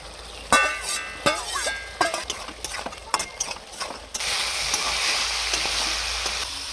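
Fried potatoes go into a pan of beef being fried for potato dum. Sharp scrapes and clinks of a spoon against the pan come first, then a loud, steady frying hiss takes over.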